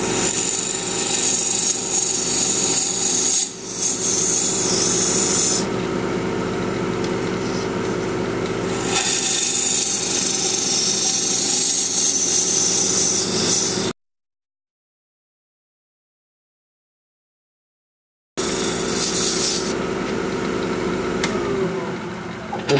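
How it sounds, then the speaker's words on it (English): A wooden piece on a lathe is cut with a 3/8 inch bowl gouge, giving a loud, steady scraping hiss that shifts in tone between passes and breaks off in silence for a few seconds before resuming. No one talks. "So I'm going to switch to a 3/8 inch bowl gouge."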